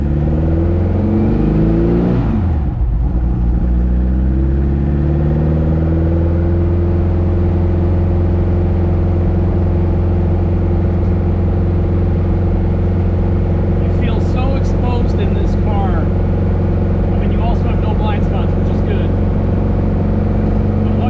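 A car engine runs at a steady low idle for the whole stretch, a constant rumbling hum, with a brief dip near the start and faint clicks later.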